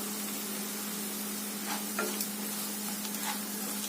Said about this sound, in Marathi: ओलं खोबरं घालायचंय, ते पण चांगलं परतून घ्यायचंय मिनिटभर